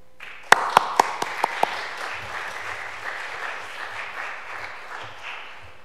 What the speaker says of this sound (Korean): 박수로 환영해 주셨으면 감사하겠습니다.